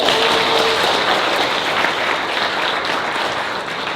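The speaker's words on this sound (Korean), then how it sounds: "멋지다고 생각하시는 분들은 박수 한번 보내주십시오" A seminar audience applauds, a dense, loud wash of many hands clapping that holds steady and tapers slightly toward the end, with no speech over it.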